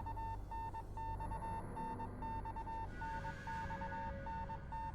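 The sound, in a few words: Morse code beeping in a video game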